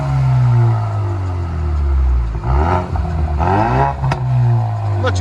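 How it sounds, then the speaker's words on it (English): A 2020 Ford Mustang EcoBoost 4-cylinder turbo with a Flowmaster Outlaw cat-back exhaust rumbles loud and close, revving up several times from a deep idle drone. "Mustang 4-cylinder turbo. FLOWMASTer system."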